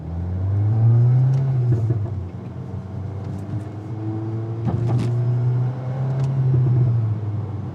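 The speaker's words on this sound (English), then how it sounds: "That turbo is, oh man. This car just sounds great." A turbocharged MK8 VW Golf R accelerates hard from close by, its engine note rising in a loud climbing drone, dipping briefly as it shifts, then swelling again, with no talking over it.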